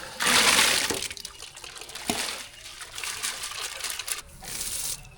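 Bubbling, churning water rolls and surges in a pot of sambar with onion, garlic and tomato, with bursts of rushing liquid sound and a few clinks.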